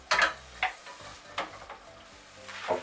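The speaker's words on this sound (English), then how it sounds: "You hear that sizzle" Onions sizzle in a pan while mushroom beef risotto is being started, with a few sharp crackling bursts of frying and stirring over a quiet background and no speech.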